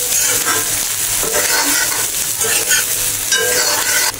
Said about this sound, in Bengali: সবগুলো একটু আমি ভাজা ভাজা করে নিচ্ছি